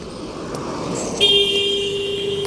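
Street traffic with steady road noise, then a loud car horn blast around the midpoint held as a long sustained toot to the end, fairly close.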